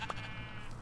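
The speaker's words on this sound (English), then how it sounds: "Oh, I hear some sheep." A sheep in the Minecraft video game gives a single short bleat, faint and distant against a low background hum.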